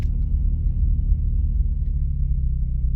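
Low, steady engine rumble of an idling car, continuous and fairly loud throughout, with no voices.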